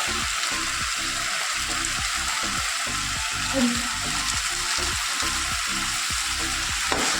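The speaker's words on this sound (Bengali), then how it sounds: "পূজা তাড়াতাড়ি যাবে বলে তাড়াতাড়ি করে রান্না বসিয়ে দিয়েছি" Food frying in a pan during hurried home cooking, a steady close sizzle broken by regular rhythmic stirring strokes throughout, with no talking.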